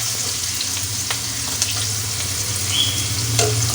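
Bitter gourd fries in a pan, a loud, continuous close-up sizzle with a few small pops and light stirring sounds.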